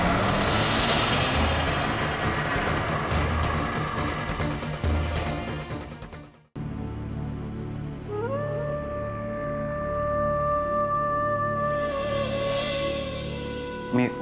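A police car starts and pulls away with its siren rising into a steady wail, following loud, busy street noise that cuts off abruptly.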